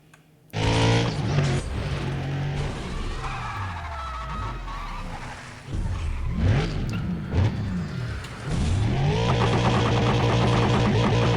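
Car revving hard and accelerating in the racing video game Need for Speed: Undercover, a loud engine roar with rising and falling gear shifts, brief skids and a building whine, no talking over it.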